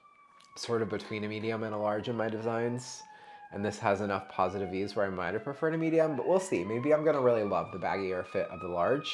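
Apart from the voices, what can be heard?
emergency vehicle sirens outside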